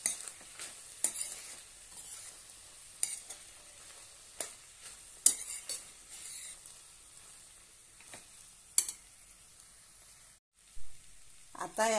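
Cooked rice being stirred and folded into black chana pulav in a pan, with soft scraping strokes and faint sizzling at irregular intervals, close and fairly quiet.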